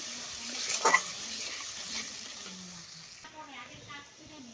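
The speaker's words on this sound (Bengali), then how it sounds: "দেখো কষানো হয়ে গেছে তো আমি জলটা দিয়ে দিই" Water being poured into a pan of simmering fish curry, a brief splashing rush followed by soft bubbling and sizzle, close and fairly quiet.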